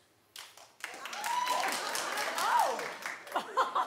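An audience claps and chuckles together in a talk-show setting, sparse claps swelling into steady applause with scattered laughter, fairly close.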